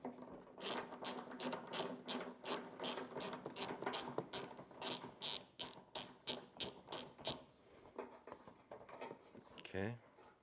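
Hand ratchet loosening the last headlight assembly bolt on a Chevy Silverado-type truck, a close, steady series of about twenty crisp clicks, then a pause and a brief clunk.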